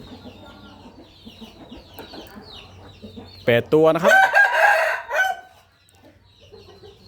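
Young Burmese roosters cluck softly, then one lets out a loud, close crow that rises and trails off, while someone speaks briefly nearby.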